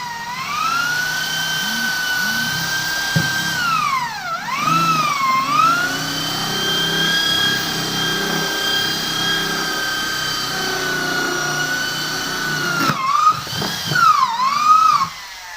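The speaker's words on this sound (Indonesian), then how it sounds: "Sekarang kita bor yang tengah untuk dudukan dinamo." An electric drill bores the centre hole in a used plastic bucket for a dynamo mount, its high motor whine sweeping up and down in pitch with load, loud and close, with a few bumps and squeals as it bites.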